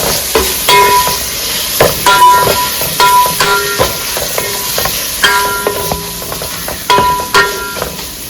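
Rice fries in a pan with coriander and mint while a spoon stirs it steadily, giving a close sizzle broken by regular metallic scrapes and knocks, with no talking.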